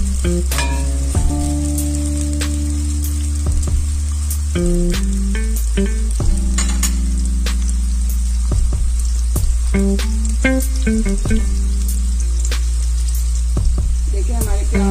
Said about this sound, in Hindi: ब्राउन कलर आने तक हम प्याजों को फ्राई करेंगे।